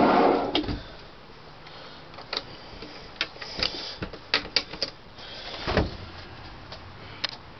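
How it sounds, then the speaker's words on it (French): A kitchen drawer used for canned goods being handled, with a rolling slide early on and a scatter of light clicks, knocks and thumps of varying strength, fairly close in a quiet room. "C'est un tiroir où on mettait les conserves."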